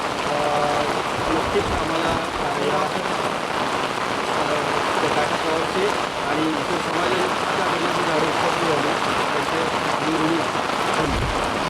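Heavy rain pours steadily onto surfaces at an outdoor tree-planting event in Maval, Maharashtra, a dense continuous hiss with pattering drops, loud and close throughout the whole stretch.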